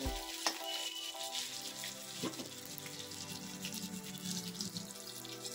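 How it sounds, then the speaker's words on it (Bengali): Chopped onion, ginger and garlic fry in a pan for kadai paneer, giving a continuous close sizzle with a few sharp utensil clinks near the start. "পেঁয়াজ আদা রসুন ভাজা হয়ে গেছে"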